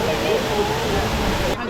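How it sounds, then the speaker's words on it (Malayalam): Courtallam Main Waterfalls in Thenkasi pour down in a steady, dense roar of rushing water, loud and continuous throughout, with voices faintly mixed into the wash. "ആ അതാണ് അതാണ് വെള്ളച്ചാട്ടം അല്ലേ?"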